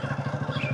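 A motorcycle engine chugs nearby in a quick, even pulsing beat, loud and close over a very short stretch, with no talking.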